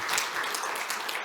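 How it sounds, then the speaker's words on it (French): Conference audience applauding a presenter, a brief dense burst of clapping heard alone at close range. "Bravo, il mérite d'être applaudi."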